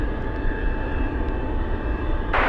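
A jet aircraft runs up for takeoff on runway 25 left, a steady loud engine roar with a low rumble and a high whine held through the whole stretch, no voices.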